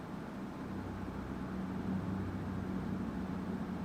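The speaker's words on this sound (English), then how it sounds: "sample that I made, which is basically just a big reverb on top of somebody using a wood chipper" A wood chipper drenched in heavy reverb forms a low, grumbling Minecraft ambience, a continuous rumbling drone that swells slightly and stays dense throughout.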